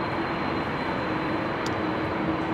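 Air Canada Airbus A330 rolling at Amsterdam Schiphol on a windy, showery day, a steady broadband jet roar with a faint whine, constant and unbroken throughout with no voices.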